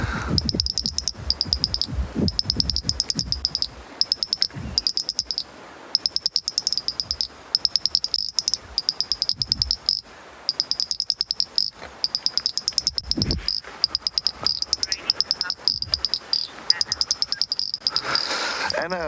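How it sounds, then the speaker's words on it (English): A dense night chorus of frogs calls after rain in the African bush, with rapid pulsed trills layered continuously and a few low thumps and rustles nearby. "But let's listen to the frogs."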